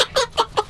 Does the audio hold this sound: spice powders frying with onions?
no